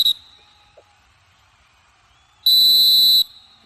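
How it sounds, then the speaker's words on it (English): A referee's whistle signals full time at a kabaddi match: one loud, shrill blast of just under a second, standing alone after a brief faint chirp, with no talk over it. "think that's the final whistle of the match"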